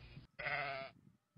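A sheep bleats once, a short quavering call heard fairly faintly, set between brief stretches of low background noise.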